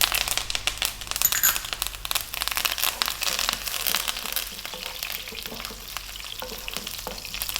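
Fresh chili and curry leaves hit hot oil with a loud, crackling sizzle that spits and pops close by, then gradually eases into a steady fry, with some stirring and no talking.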